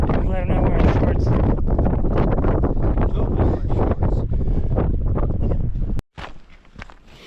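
Strong gusting wind buffets the microphone on an exposed mountain ridge on Carrauntoohill, a loud continuous roar that cuts off sharply near the end, leaving quieter rustling.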